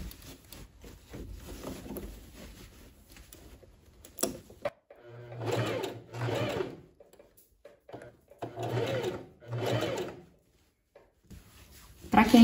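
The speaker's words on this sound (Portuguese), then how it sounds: "E venho costurando próximo da costura aqui overlock" An overlock sewing machine runs in several short bursts while stitching the seam of a high-neck blouse, each burst a steady mechanical whir, with quiet pauses and soft handling noises between them.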